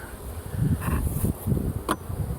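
Honey bees buzz around an open hive while the cover is being put back, a continuous close droning hum with a couple of brief sharper clicks.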